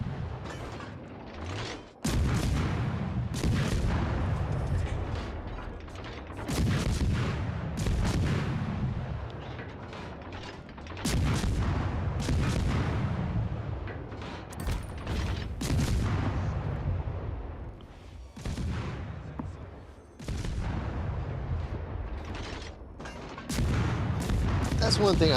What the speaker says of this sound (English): Gonna open up guns on him.